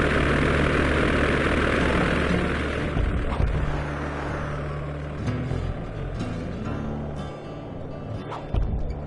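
A propeller plane's engine drones steadily in an ice-themed video game, a loud continuous hum with broadband rush that stays even throughout, with small engine-pitch shifts and no voices.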